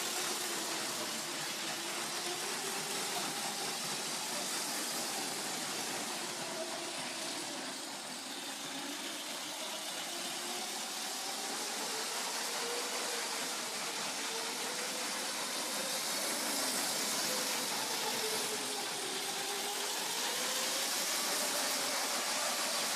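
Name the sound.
Lego train with dual motors running around the track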